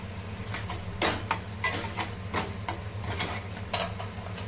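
Finely grated coconut is dry-roasted and stirred in a pan, with repeated scraping strokes and light clinks from the utensil against the metal over a low continuous background hum.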